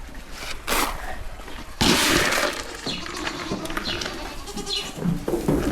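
Goats bleat loudly and repeatedly, several animals calling over one another close by, with some clattering noise mixed in.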